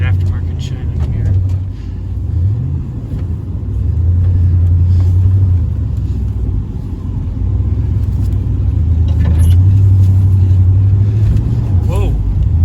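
A Ford F150 pickup's engine rumbles steadily while driving, loud and close, with low drones rising and falling as the truck accelerates, under occasional talk.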